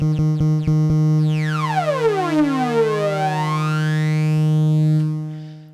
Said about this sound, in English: So that is the comb filter that's been added